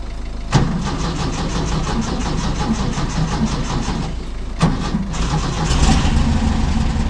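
A Volkswagen Combi van engine turns over and runs with a loud, close, lumpy idle. Sharp bursts recur at intervals as it catches again, and the revs rise slightly near the end.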